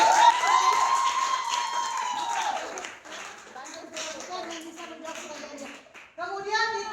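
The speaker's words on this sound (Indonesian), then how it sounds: "setelah maju kelompok 1 kali tepuk tangan dulu lah" Classroom audience claps briefly after a group presentation in a teacher performance test, a short burst of applause under a loud voice, followed by more talking.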